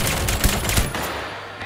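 Rapid gunfire in the video game Deceive Inc, a loud, dense burst of shots with a couple of sharper cracks that fades slightly toward the end, with no voices.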